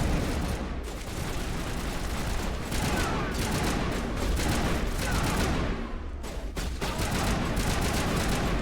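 Continuous rapid gunfire in the PC game Mass Effect 1 Legendary Edition, a dense, loud barrage of shots that keeps up with brief gaps throughout.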